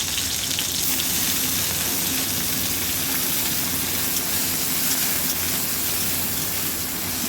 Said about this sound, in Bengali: ভালো করে ভেজে নিতে হবে এগুলো, টমেটোগুলো যেন একটু নরম হয়ে যায়।